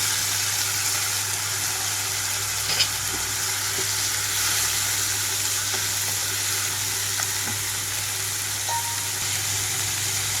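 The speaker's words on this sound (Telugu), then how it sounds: "ఇప్పుడు ఇందులోకి టమాటో కూడా వేసేస్తున్నాను, అలాగే పచ్చిశనగపప్పు కూడా." Tomato and chana dal go into a pan of frying cauliflower curry, giving a steady close hiss of sizzling oil that runs unbroken throughout with a few faint clicks of stirring.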